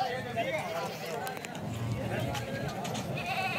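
Goats bleat amid the bustle of a crowded goat market at Gali Jageer, with several overlapping calls and hoof clatter under constant nearby chatter from people talking.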